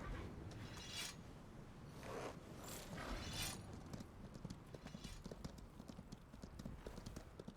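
A horse's hooves clip-clop in the Viking-themed video game Mages & Vikings, a rapid, steady trot of close hoof beats mixed with faint mechanical clicks.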